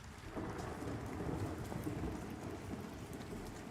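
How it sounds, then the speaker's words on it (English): Steady rain falls under a tree in the MMO Pantheon: Rise of the Fallen, a dense, continuous patter with a low rumble beneath, even and unbroken throughout with no voices. "How the rain picks up a little bit when you're under the bow of a tree."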